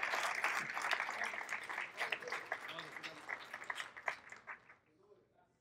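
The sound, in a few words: congregation applause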